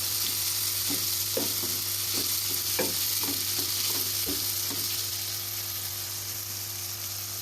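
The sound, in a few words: mixing ground masala in the pan for stuffed bhindi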